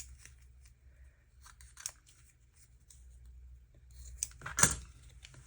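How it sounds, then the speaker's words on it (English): Scissors snip paper for a Christmas journal with soft scattered cuts and rustles, ending in a louder crisp cluster of snips close to the microphone. "And I'm going to cut some of this off."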